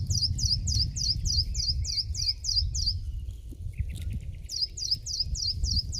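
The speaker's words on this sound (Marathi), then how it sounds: "पक्षी किती मस्त गात आहेत ना." Birds sing near karvanda bushes beside a banyan tree in the countryside, a small bird repeating a quick, bright chirping phrase in regular bursts with a short pause, over a low rumble of wind or distant background.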